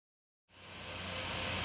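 A Red Dragon RX 580 graphics card fan spins up under full 100% GPU load, starting from silence and swelling into a loud, steady broadband whoosh.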